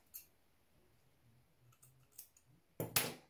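Scissors cut a length of cotton ribbon in two for a sewn apron: faint small clicks, then one sharp, close snip near the end in an otherwise quiet room.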